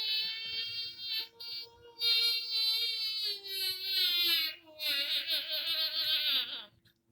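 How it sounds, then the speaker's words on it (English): A wailing siren rises and falls in pitch, loud and sustained for several seconds before cutting off. "That's a siren."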